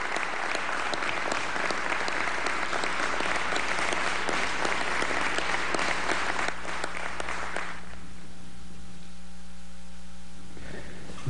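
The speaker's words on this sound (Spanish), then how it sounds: "Yo pido un aplauso para nuestra Fuerza Armada Nacional Bolivariana." Sustained applause from a crowd for the Bolivarian National Armed Forces, loud and dense clapping that fades out after about eight seconds, leaving a low mains hum.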